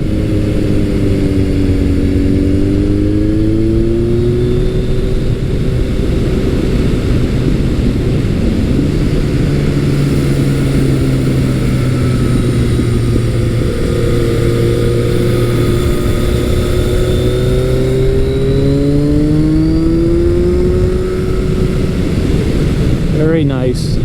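A Kawasaki motorcycle engine, a KZ1000 or ZRX1200R, hums loudly and continuously while riding through twisty roads, its pitch rising and falling smoothly with throttle changes over steady wind rush.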